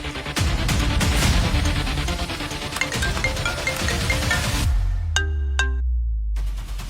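Phone ringtone playing during an outgoing call, loud and close over a busy musical background, ending in a few brief tonal ring pulses before falling quiet.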